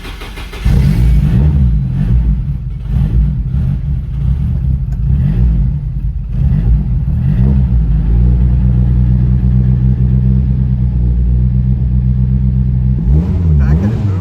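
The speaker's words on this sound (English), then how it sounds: "The fact that it moves so much when I rev already worries me." A Nissan 180SX engine, a rebuilt drift competition car, idles loudly and then revs repeatedly in rising and falling surges, close and rumbling, with a voice talking over it at times.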